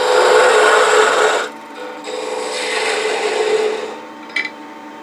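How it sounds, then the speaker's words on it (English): A wood lathe parting off a turned wooden flower, a loud rasping cut that breaks off, then a quieter scraping pass ending in a short sharp knock. "now let's part it off"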